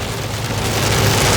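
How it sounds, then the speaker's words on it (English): Heavy rain pours down in a dense, loud, continuous hiss, close by and steady throughout with no voices. "It started raining even harder."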